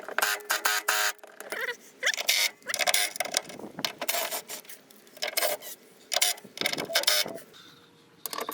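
Screws being removed from the rear window regulator of a W209 Mercedes-Benz CLK Cabriolet: close, repeated raspy ratcheting and scraping bursts in an irregular rhythm, with short pauses between turns and no talking.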